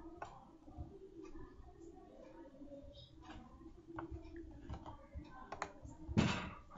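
Typing on a computer keyboard while entering Cisco router commands, a quiet scatter of irregular clicks and key taps with a louder burst near the end.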